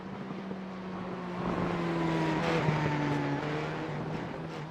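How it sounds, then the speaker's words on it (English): A Formula 4 race car engine in the iRacing video game at Donington circuit falters as it runs out of fuel, a moderate droning note sliding and wavering over steady background engine noise. "Sounds like his car's actually out of fuel by the sounds of things."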